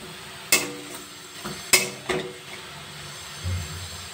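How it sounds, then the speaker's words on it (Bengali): Capsicum, slit green chillies and spices sauté in a pan over a low sizzle, punctuated by a few sharp metallic scrapes and knocks of a utensil stirring. "সমস্ত মশলাগুলো ভালো করে কষিয়ে নেব।"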